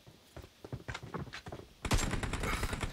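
Rapid gunfire in the mobile battle royale game BGMI, a dense burst of loud shots starting partway in after scattered quieter taps and footstep-like thuds, continuing as sustained automatic fire.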